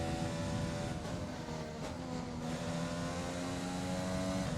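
F1 car engine in F1 2020 during a race, a steady high-pitched engine drone with a constant harmonic whine, loud and continuous with slight pitch shifts throughout.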